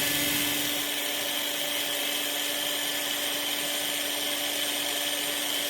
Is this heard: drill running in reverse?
yes